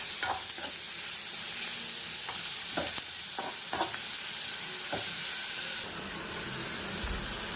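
Onions fry and get stirred in a pan, giving a steady loud sizzle with several sharp scraping strokes of the spoon spread through it; no voices.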